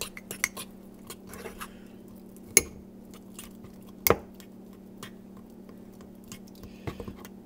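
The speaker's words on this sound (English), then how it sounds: "Let's mix it some more." A spoon scrapes and taps against a mug while brownie batter is mixed, giving scattered soft clicks and squishy strokes with a steady low hum underneath.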